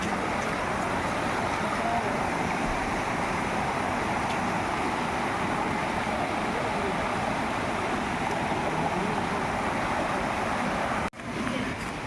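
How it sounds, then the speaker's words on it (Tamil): A natural stream rushes over rocks in a hilly forest at Yelagiri, a loud, steady, unbroken wash of flowing water with no voices, cutting off abruptly just before the end. "இந்த இயற்கையும் இந்த தண்ணி, அந்த சத்தம், செம்மல"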